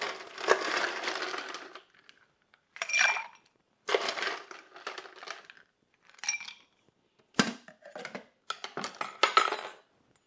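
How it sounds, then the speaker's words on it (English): Ice cubes tumble into a glass for a Washington Apple cocktail, several separate bursts of clinking and rattling with brief pauses in between, close and fairly loud with no talking. "All right, we're going to add some ice."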